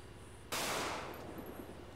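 A sudden sharp burst of gunfire cracks out in a FiveM roleplay game, followed by a long rattling echo that slowly decays over steady background noise.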